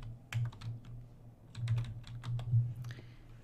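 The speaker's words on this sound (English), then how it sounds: "you go down and type in Cortana Bluetooth" Fingers type on a computer keyboard with a few quick bursts of soft, close clicks separated by short pauses, fairly quiet and with no talking.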